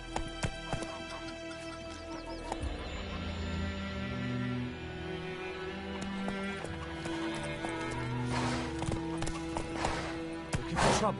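In The Witcher 3 on PS5, a horse's hooves clip-clop steadily as it moves along, with an occasional neigh. Background game music plays underneath and a voice is heard faintly near the end.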